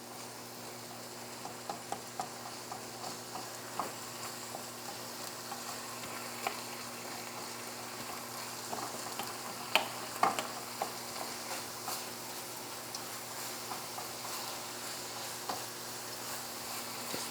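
Ground chili meat simmers quietly in a pan while a utensil stirs it now and then, soft scraping clicks over a low, steady sizzle, with no voices.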